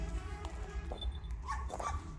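A heavy-set dog in a garden gives a few quiet, scattered barks and yips at low level, heard close amid faint background noise.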